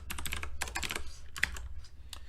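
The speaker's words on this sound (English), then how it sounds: "Okay, so I'm done with typing comments." Quick bursts of clicky keystrokes come from a computer keyboard as code comments are typed, in uneven clusters with brief pauses, close and fairly quiet.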